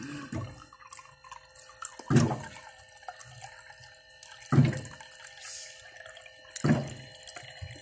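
Water runs into a glass or container in four short, separate pours, each a close splashing gush, with a faint steady background hum between them.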